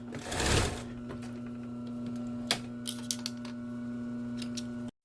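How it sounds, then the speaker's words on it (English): A sewing machine stitching a seam runs steadily with a buzzing mechanical whir and faint rhythmic ticking. It stays close and even for about five seconds, then stops abruptly. "And then when you start sewing and do your back stitch and sew your line and all of that"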